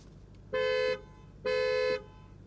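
Two loud, even horn blasts from a 2021 Audi RS6 Avant, each lasting about half a second with a short pause between, sounding close and clear over quiet surroundings.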